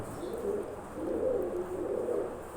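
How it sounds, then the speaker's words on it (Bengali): A pair of homing pigeons coos softly and repeatedly nearby, low rolling calls over a faint steady background hum. "এই হচ্ছে নটটা অসাধারণ একজোড়া কবুতর"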